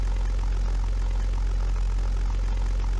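A P-51B Mustang propeller fighter in the 1998 flight simulator European Air War, its engine a steady, loud droning hum with a deep low rumble and no break throughout the landing approach.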